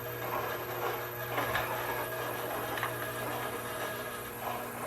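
An electric meat grinder making homemade sausage runs with a steady motor hum and whine and a faint rhythmic churning underneath, moderately loud and close, with no talking.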